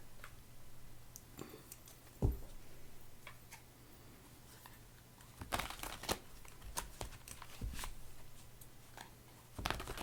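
A deck of cards being shuffled and handled, heard as a few short, crisp riffling bursts separated by quiet stretches, with faint ticking and rustling in between and no voices.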